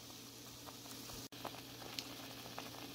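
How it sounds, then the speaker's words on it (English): Kerrygold garlic and herb butter melts in a pan, a soft crackling sizzle and faint bubbling patter, quiet and steady with one brief cut. "We're gonna melt the butter now."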